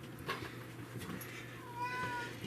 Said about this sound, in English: And of course we got a cat up here.